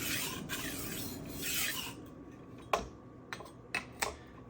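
A knife's edge is drawn across the abrasive of a SharpWorx Master 2 guided sharpener in light back-and-forth strokes: a few soft rasping passes, then several short, sharp scraping ticks.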